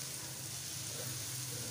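Onions browning in a pan, a soft, steady sizzle heard close but quiet over a low background hum.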